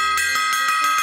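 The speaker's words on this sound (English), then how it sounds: "that's a gong" A newly bought gong struck repeatedly, giving a rapid series of bright, shimmering metallic hits with sustained ringing overtones, close and loud, with no talking.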